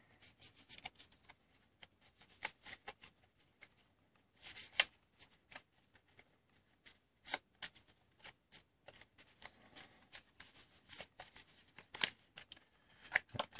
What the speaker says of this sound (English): Shuffle up the cards again.